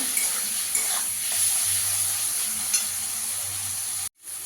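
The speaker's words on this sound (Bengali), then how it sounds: "টমেটোটা দিয়ে একটু ভালো করে ভেজে নেবো।" Tomatoes frying with salt in a pan, a steady bright sizzle running throughout with occasional stirring scrapes, close and fairly loud, ending in a brief dropout.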